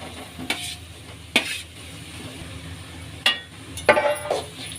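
A spoon scrapes and stirs boiled sweet potato stir-fry in a pan, a few separate clinking strokes over a faint steady sizzle, close and without talk.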